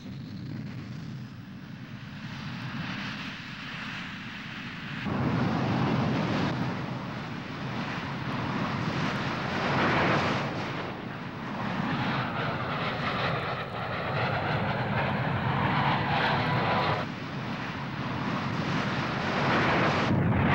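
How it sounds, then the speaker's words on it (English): A MiG-21 BIS jet fighter of the Soviet frontal air forces roars with a continuous, heavy engine rumble and a rushing, windy roar that swells partway through and stays loud to the end. "the MiG-21 BIS, many thousands of which have been built for the Soviet frontal air forces"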